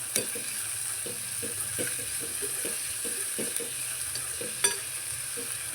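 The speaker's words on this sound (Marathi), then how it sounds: "ह्या भाज्या सगळ्या आपल्याला व्यवस्थित परतून घ्यायच्या आहेत" Chopped cabbage and capsicum sauté in a pan for pasta, a soft continuous sizzle with a spoon scraping and tapping in an uneven rhythm, close up, quiet, and free of speech.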